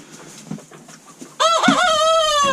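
A rooster crows loudly and close by, a long drawn-out cock-a-doodle-doo after a few softer clucks and rustles, with no one speaking over it.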